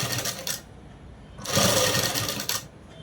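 Close, loud bursts of a sewing machine stitching with a small stitch length, two short runs separated by a quieter pause.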